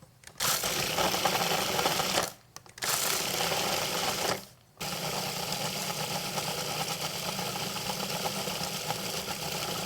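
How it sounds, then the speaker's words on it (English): Food processor pulsing cold cubed butter into crumble topping for a peach crumble, a steady close motor whir in three bursts separated by short pauses, the last run continuous. "I'm just going to pulse this until I see sort of clumps beginning to form."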